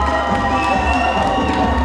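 A studio audience cheers and applauds a contestant at a televised celebrity awards event on a seaside stage, a dense, loud, continuous roar of crowd voices and clapping with no pauses.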